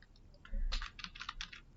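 Typing on a computer keyboard, a quick close burst of soft clicking keystrokes in an irregular rhythm, faint and alone without talk.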